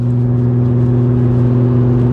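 A Nissan Skyline R32 engine drones loud and steady through a custom catback exhaust with no back box, resonator or cats, holding a deep, even tone throughout.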